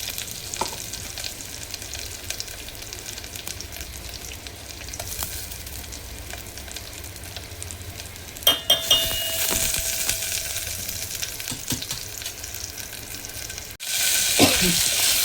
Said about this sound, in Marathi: आता आपण ह्यामध्ये टाकत आहोत आलं लसूण पेस्ट